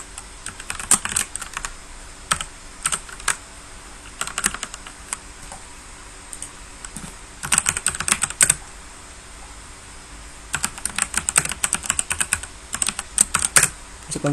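Fingers type on a computer keyboard while Python code is entered, bursts of quick close key clicks broken by brief pauses, with no talking over it.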